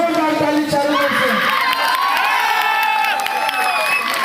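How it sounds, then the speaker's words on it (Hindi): A wedding crowd cheers and shouts loudly, with children's voices and some clapping, in a continuous lively roar with no pauses. "एक बार जोरदार ताली चालू करते"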